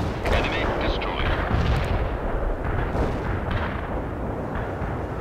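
Artillery fire in the video game World in Conflict: heavy booming shots and explosions roll over one another in a dense, loud barrage, with voices heard underneath.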